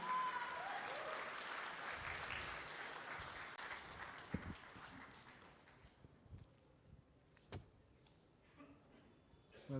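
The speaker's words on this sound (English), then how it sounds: "Can we have a huge round of applause for him?" Loud, sustained applause from an audience at an AI product launch event, dense clapping that gradually thins and fades toward the end with a few scattered claps and some background voices.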